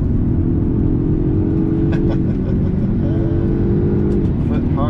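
A Polestar 1 at full throttle, its engine a loud, steady drone with rising harmonics as it accelerates hard, continuous throughout with faint clicks over the top.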